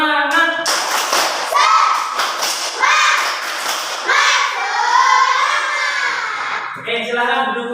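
A class of schoolchildren does a rhythmic spirit clap in bursts, with loud patterned clapping mixed with chanting and shouting close by.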